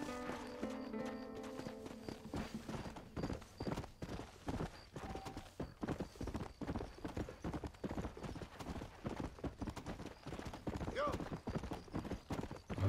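A horse's hooves clip-clop steadily in Red Dead Redemption, a fast regular rhythm of close, crisp hoofbeats over nearly thirteen seconds, with a brief whinny-like tone partway through.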